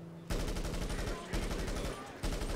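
Service carbine from GTA Online fires in three sustained fully automatic bursts, loud rapid evenly spaced shots with brief gaps between bursts.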